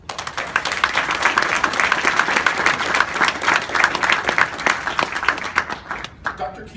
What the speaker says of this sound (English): I'd like to give them all a hand of applause.